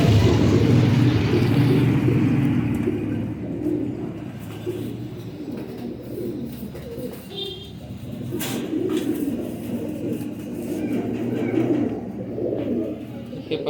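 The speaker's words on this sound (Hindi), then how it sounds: "दोस्तों ये बिग साइज़ के कबूतर हैं।" Large pigeons, including an Indian Shahjahanpuri pair, coo softly at a pigeon sale in Liaquat Market, with a low, continuous traffic rumble and busy market noise beneath them.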